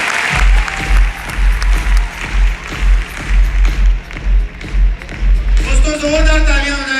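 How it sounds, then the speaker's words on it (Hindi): An audience claps in a steady, rhythmic beat, loud and close, with the clapping continuing throughout and a voice briefly rising at the end. "दोस्तों जोरदार तालियां हो जाए यार, बजा लो यार तालियां भाई, जोरदार तालियां होनी चाहिए।"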